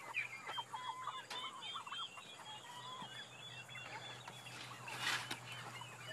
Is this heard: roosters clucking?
yes